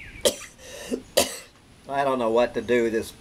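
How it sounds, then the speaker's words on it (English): A person with a dry, hacking cough and chest congestion lets out two sharp, close coughs about a second apart, then speaks. "dry hacking cough and all of this congestion in my lungs"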